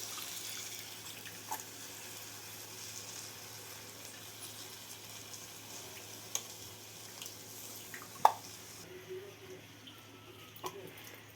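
Water runs into a bitter gourd curry seasoned with chili, salt and tamarind, making a steady, even pouring wash with a few sharp clinks, close by and without speech.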